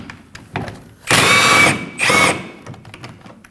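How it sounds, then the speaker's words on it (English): A power tool fitted with an 18mm socket loosens a rear lower control arm bolt on a 2011-2016 Kia Optima, giving two short, loud whirring bursts close by between quieter clicks and handling noises. "Using an 18mm socket, we're gonna go ahead and loosen this one up."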